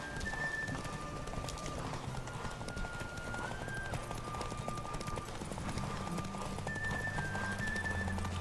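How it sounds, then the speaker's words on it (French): Hooves clip-clop in a steady galloping rhythm as a horse races in The Witcher 3 video game, with game music and occasional bird calls in the background. "Course de cheval."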